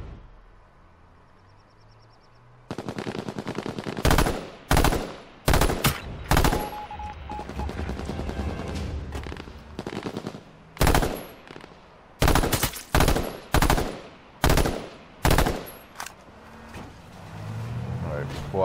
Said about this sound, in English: I get shot at.